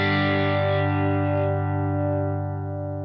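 An electric guitar played through a Headrush rig into a cranked Fender amp rings out as one sustained, heavily driven chord that slowly decays, loud and alone with no voices.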